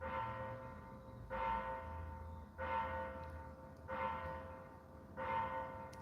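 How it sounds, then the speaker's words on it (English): A church bell rings slowly and steadily in the distance, four or five evenly spaced strikes each leaving a long humming decay, faint and with no talk. "got a great bell ringing."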